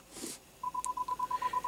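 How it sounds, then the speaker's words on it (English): Rear parking sensors on a 2017 BMW with an 8-speed Steptronic automatic sound a steady series of short, evenly spaced electronic beeps in reverse, clear and fairly close, with no talking over them. "And you also do have rear parking sensors, as you can hear it right now."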